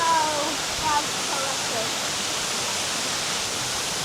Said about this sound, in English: That is a good waterfall, to be fair.